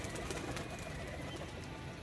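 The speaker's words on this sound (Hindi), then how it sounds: "ये देखो कैसे कैसे कबूतर हैं।" Pigeons coo softly amid a dense, noisy backdrop of fluttering and crowd murmur, steady throughout with no single sound standing out.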